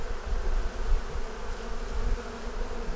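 Honey bees from a swarm hum around an opened hive in a dense, continuous buzz that stays close and steady throughout.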